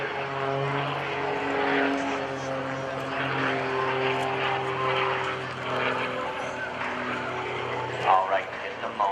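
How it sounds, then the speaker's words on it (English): An Extra 300S aerobatic propeller plane drones steadily overhead at an airshow, its engine tone loud and continuous with a slight rise and fall, while a commentator talks over a public address. "we are going to see Kevin Coleman turn this beautiful Extra 300S into the Extra 300S helicopter"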